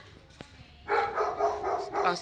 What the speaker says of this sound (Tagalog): Laki ng aso dito mga idol, oh.